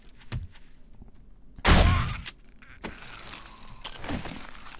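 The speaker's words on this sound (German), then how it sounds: "Die Shotgun brauchen wir zwei Schuss" A loud shotgun blast from the 7 Days to Die video game, alpha 14, fired once with a heavy boom and decaying tail, surrounded by quieter thuds and in-game noises.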